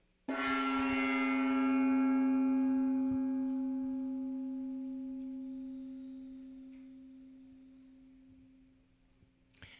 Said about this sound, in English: we hit the gong for the first time